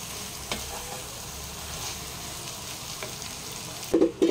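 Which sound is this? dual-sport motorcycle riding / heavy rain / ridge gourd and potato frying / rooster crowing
ridge gourd and potato frying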